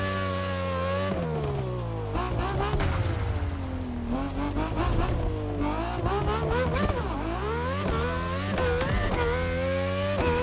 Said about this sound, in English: Voyons comment la Ford Puma hybride s'en sort face à d'autres monstres du rallye comme la Citroën C3 ou même la Focus RS.